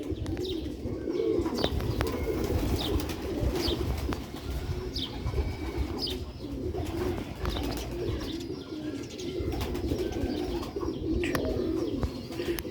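Sialkoti pigeons with purple and green sheen coo in a loft, a dense, continuous low murmuring coo from many birds close by, with occasional higher chirps over it, and no voices.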